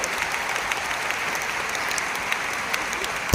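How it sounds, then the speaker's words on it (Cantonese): A concert audience at a show in Malaysia bursts into close, vigorous applause, a dense crackle of many hands with a few sharper claps standing out, and no speech. "喺度俾啲掌聲我哋嘅最年輕嘅"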